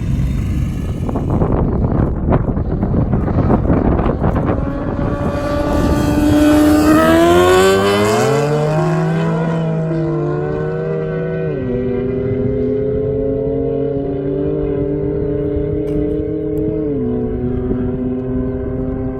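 High-horsepower car, one of a set including a 1000 bhp M5 and a 580 bhp Civic Type R, revving hard on its run, the engine note climbing and wavering before settling into a steady drone as it spins off on gravel.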